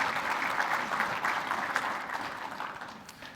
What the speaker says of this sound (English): Help me welcome Joe.